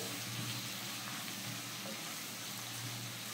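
Onions sautéing in oil in a pan for an egg roast, a faint, even hiss of frying that carries on without a break and without talk.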